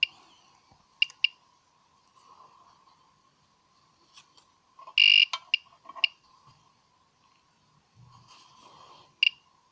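A radiation detector reacts to a uranium bead held right beside it: irregular sharp clicks and brief chirping bursts, including one longer loud burst, over a steady faint high tone, with no talking.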